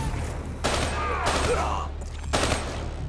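Bursts of automatic gunfire from the Call of Duty Black Ops III video game, three dense fusillades with brief gaps between them, loud and close over a low rumbling game soundtrack.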